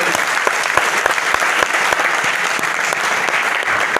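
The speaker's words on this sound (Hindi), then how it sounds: "जोरदार तालियां स्वागत कीजिए" A company event audience gives loud, sustained applause to welcome an area sales manager to the stage, with many hands clapping densely throughout and a few sharp individual claps standing out.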